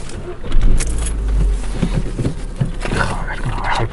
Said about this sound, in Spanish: cómo baja el puto coche